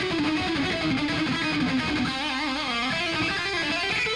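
Electric guitar solo lick with every note picked, a fast driving run of distorted notes, loud and unaccompanied, with the phrase moving higher partway through.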